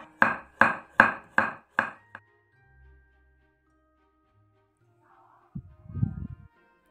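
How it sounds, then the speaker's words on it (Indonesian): Five garlic cloves are thinly sliced with a knife, five crisp, evenly spaced chops landing close by on a cutting board, followed after a pause by a soft, muffled clatter. "Lima siung bawang putih diiris tipis ya."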